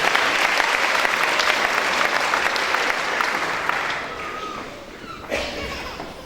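A church congregation gives a long burst of dense applause that stays loud and steady before gradually thinning and fading, with a few scattered claps and faint voices at the end.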